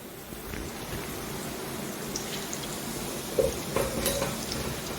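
Beef pieces for beef chilly frying in hot oil give a steady crackling sizzle, with a few sharper pops near the end.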